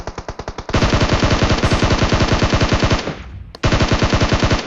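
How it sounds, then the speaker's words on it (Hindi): Rapid automatic gunfire from a mobile shooter video game, loud and continuous, with a brief dip in the middle before the burst resumes. There is no speech. "यहाँ पे जो पीछे से फायर आता है"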